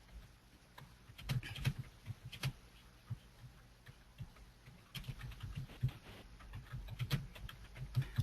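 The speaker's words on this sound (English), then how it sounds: "I can hear someone else typing" Someone typing on a computer keyboard during an online webinar, a faint, irregular patter of soft key clicks heard alone over a low background hum.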